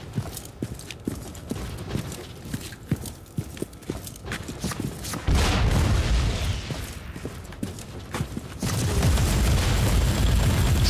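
Grenade explosions in the Inquisitor Prophecy video game: rapid clattering impacts first, then a loud rumbling blast burst around five seconds and another heavy roar near the end, with no talking.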